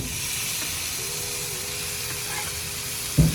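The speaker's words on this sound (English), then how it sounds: "And now we go in with those lovely ripe tomatoes." Ripe tomatoes hit a hot pan of spice blend and sizzle in a steady, close frying hiss, with a short clatter of handling at the very end.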